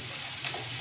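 Tempering for avalakki (flattened rice) sizzles steadily in hot oil with curry leaves, mustard seeds and urad dal, a close, continuous crackling fry throughout the short moment.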